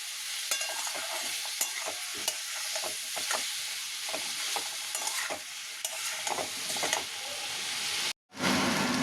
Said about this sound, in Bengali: মশলাটা টমেটো একসাথে দিয়ে দেবো একটু কষাবো